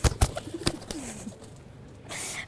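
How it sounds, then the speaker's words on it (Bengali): A pair of pigeons coo softly with a low, wavering call, preceded by a few sharp clicks and rustles at close range, then a brief hiss of background noise. "ওরা জোড়া কবুতর, একজন আরেকজনকে ছাড়া থাকতে পারে না, সবসময় একসাথে থাকে।"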